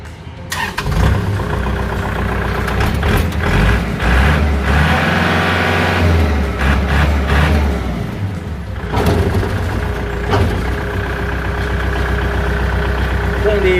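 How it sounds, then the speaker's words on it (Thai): A Kubota L5018 tractor diesel engine cranks and starts, then settles into a loud, steady rattling idle close by, with a brief pause midway; a voice is heard briefly. "เราลองสตาร์ทเครื่องยนต์ให้ ดูกันนะครับ"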